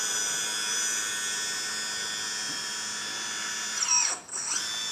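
Hydraulic pump of an RC dumper on an 8x8 metal chassis driving its bucket, a steady high-pitched electric whine and hum held close, ending in a brief rising then falling sweep as the motor changes speed.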